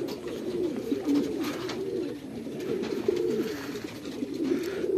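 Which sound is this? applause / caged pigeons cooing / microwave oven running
caged pigeons cooing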